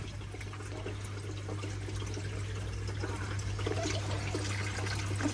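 Water trickles steadily out of reef aquarium plumbing, a soft continuous splashing flow at moderate level with a low hum underneath and no talking.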